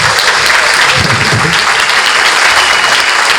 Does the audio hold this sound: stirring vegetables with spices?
no